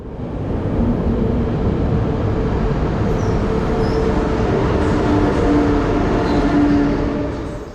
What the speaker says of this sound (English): our train pulls in fresh from the depot